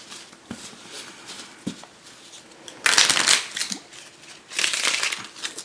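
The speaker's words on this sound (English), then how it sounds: "They're a little bit flimsy when you try to shuffle them together." Vintage American Airlines playing cards, a flexible, slightly flimsy Made in China deck, being shuffled by hand: two close riffling bursts of papery flutter, with a few light taps and handling noises before them.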